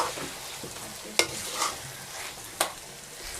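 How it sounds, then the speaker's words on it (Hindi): Semolina roasts in ghee in a pan for halwa, a continuous faint sizzle with a few sharp scraping strokes of a spoon against the pan and no talk. "भूनते रहेंगे जब तक कि हमारा जो घी है वो अलग ना हो जाए"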